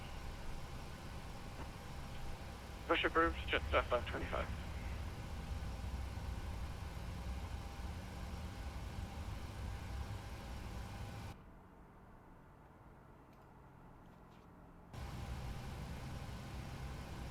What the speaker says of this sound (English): Engine number 2 set idle.